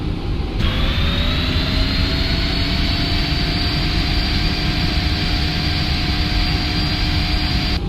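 A Qatar Airways PMDG 777-200LR climbs out after takeoff from Washington in the Prepar3D flight simulator, its jet engines roaring loud and steady with a rising whine, as the landing gear retracts.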